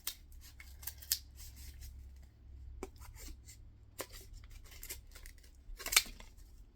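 Scissors snip through material to cut out a blade shape for a homemade plasma blade, a few crisp separate cuts spaced over a quiet background with a low steady hum beneath.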